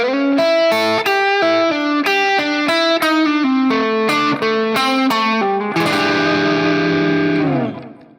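Distorted electric guitar plays a slow, bluesy run of single notes, closing on a ringing chord that sustains and then cuts off.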